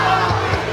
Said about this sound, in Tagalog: talaga namang todo ang hiyawan sa pagbisita ni Piolo Pascual